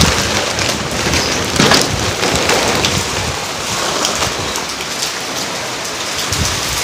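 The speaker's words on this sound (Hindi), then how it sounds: "अभी बारिश काफ़ी तेज़ हो चुकी है, देखें है बारिश बहुत तेज़ हो गई है।" Heavy rain pours down steadily outdoors near a birdcage, a dense, loud and constant rush of drops hitting surfaces with no break and nobody speaking.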